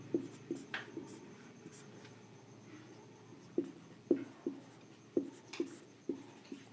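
A pen or chalk taps and scratches out numbers in short clustered strokes, close and fairly quiet, with pauses between bursts and no talking.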